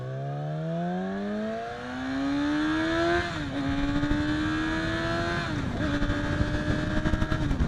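Yamaha R6 sport motorcycle pulling away hard during break-in, engine revving up through rising gears with shifts, loud and close, exhaust rasp growing rougher toward the end.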